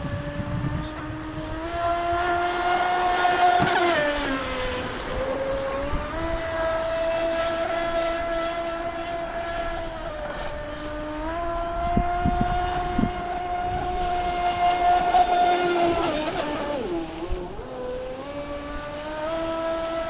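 A Proboat Supersonic Wake 48 RC boat fitted with a Boat Bitz CSS kit running at full throttle, its electric motor whining steadily, rising and dipping in pitch as it turns, moderately near and with no voices.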